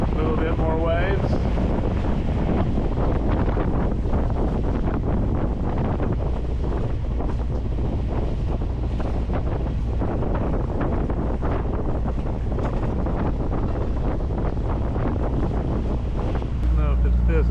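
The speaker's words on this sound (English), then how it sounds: "Starting to get wind closer and closer to a sailing angle and stronger wind." Steady wind roar and rushing waves surround a sailboat under way at sea between Bequia and St Lucia, a loud, continuous broadband wash with no pauses for the full length.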